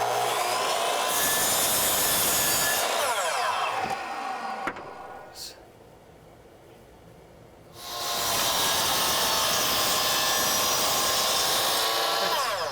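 A saw cuts across the end of exterior door trim casing, a brick mould 908 profile, with a loud, steady whining roar. The roar spins down to a quieter lull and then starts again for a second long cut.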